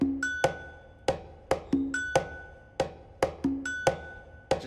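Sharp, clicky MIDI percussion hits with bell-like and wood-block tones repeat in a steady, syncopated groove, clean and up close with no voices.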